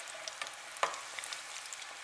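Pignolata dough pieces frying in hot oil, a soft steady crackle with scattered small pops and one sharper spatter, close and quiet.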